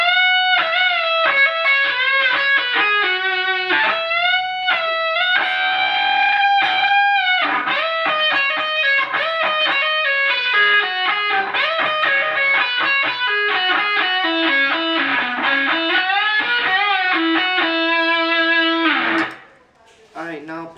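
Electric guitar plays a solo passage from a song, a continuous run of sustained, bent and pulled-off notes with a lightly effected tone, stopping abruptly near the end.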